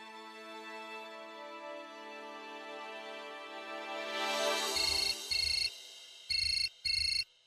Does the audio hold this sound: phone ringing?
yes